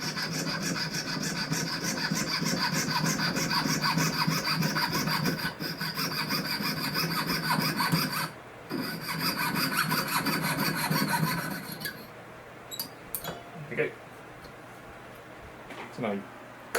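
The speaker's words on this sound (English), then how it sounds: "I want to file it back to the line." Needle file rasping metal back to a scribed line while making a small four-claw collet, steady close strokes in a continuous rhythm, then a few lighter scrapes and taps as it trails off.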